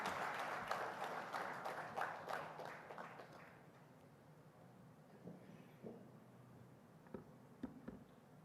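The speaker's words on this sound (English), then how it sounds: "Can we welcome him with a big round of applause," An auditorium audience at a tech conference applauds to welcome a keynote speaker, a fairly faint round of clapping that fades within a few seconds, leaving scattered claps and hall noise.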